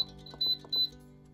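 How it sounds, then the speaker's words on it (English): Two short electronic beeps from a kitchen timer, high-pitched and clear, one after another with a brief gap, preceded by faint clicks of buttons being pressed. "let's set this timer"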